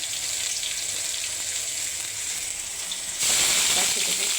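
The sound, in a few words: onion frying in hot oil with salt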